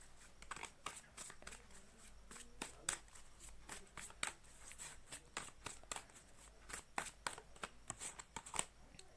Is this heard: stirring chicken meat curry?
no